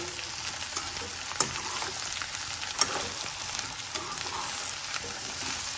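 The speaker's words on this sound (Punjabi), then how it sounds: "ਹੁਣ ਆਪਾਂ ਗੈਸ ਦੀ ਫਲੇਮ ਨੂੰ ਜ਼ਿਆਦਾ ਕਰਕੇ ਸਾਰੀਆਂ ਸਬਜ਼ੀਆਂ ਨੂੰ ਆਪਾਂ ਭੁੰਨ ਲੈਣਾ" Mixed vegetables roasted over a high gas flame hiss in a steady, fairly soft sizzle while being stirred, with a couple of sharp utensil clinks against the pan and no talking.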